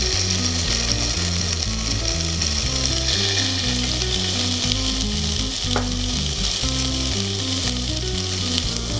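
Tandoori salmon skewers sizzle in an oiled pan, a loud, dense, unbroken frying hiss close by, with a low rhythmic mechanical pulsing running underneath and no speech.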